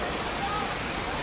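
Heavy monsoon rain pours down steadily during flooding in Mumbai, a dense continuous roar with no breaks.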